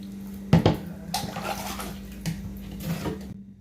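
Water poured over a body during a ritual washing of the dead: splashing pours with a sharp splash near the start, then softer running and trickling water over a steady low hum, close and moderately loud.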